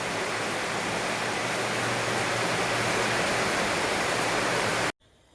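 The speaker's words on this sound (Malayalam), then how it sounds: "മോളിൽ ഓസിലൂടെ മഴവെള്ളം ഒഴുകി പോണത്" Rainwater pouring down through a hose during a heavy rainstorm, a dense steady gushing hiss held at one level, then cut off abruptly near the end, with no voices.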